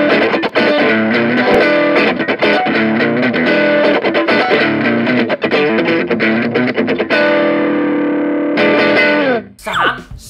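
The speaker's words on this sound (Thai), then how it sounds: "2เสียงแตกอ่อนโอเวอร์ทั" An electric guitar plays through the overdrive setting of a Valeton Dapper Mini pedal, with gritty, driven chords and riffs ringing loud and close before cutting off near the end.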